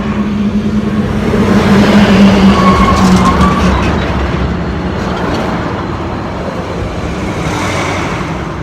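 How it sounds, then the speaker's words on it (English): A heavy truck rolls past on a road, its broad engine and tire roar loud and steady before slowly easing as it moves away, with no one talking. "Here comes another truck."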